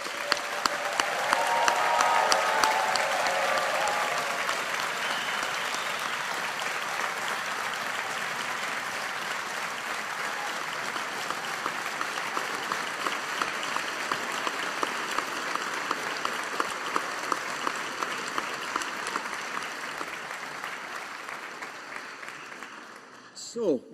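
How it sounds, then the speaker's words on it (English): A large audience at a University of Strathclyde Faculty of Science graduation ceremony gives the class of 2022 a sustained round of applause. The clapping stays full and even for over twenty seconds, swells early on, then fades with a final burst. "let's give the class of 2022 a big collective round of applause."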